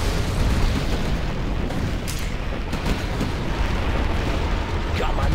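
Explosions and a roaring fireball blast in Command & Conquer: Generals Zero Hour (Art of War mod) as a missile strike destroys tanks: a dense, continuous rumble with bursts of crackling booms throughout, loud and close.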